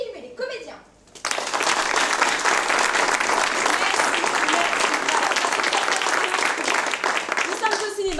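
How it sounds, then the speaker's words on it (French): Cinema audience applause for a film and its actors, erupting after a brief pause from a spoken introduction into dense, loud, sustained clapping across the room, continuing for about seven seconds until voices return near the end. "Mesdames et messieurs, faites un tonnerre d'applaudissements pour le film et les comédiens"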